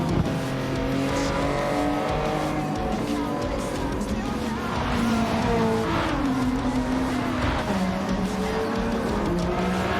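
A race car laps a track in the video game Gran Turismo 7. Its engine drones continuously, the pitch climbing and dropping through gear changes, with brief tire squeal, steady and moderately loud throughout.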